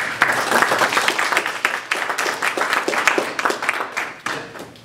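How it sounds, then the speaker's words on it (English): A room of attendees at a winter education training session breaks into a round of applause, dense and steady clapping at close range that carries on for the full stretch with a slight dip near the end. "Round of applause."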